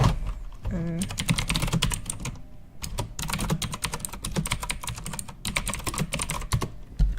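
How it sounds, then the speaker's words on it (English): Rapid, steady clatter of typing on a computer keyboard, close and fairly loud, running continuously with brief pauses and no voices. "because I'm typing things."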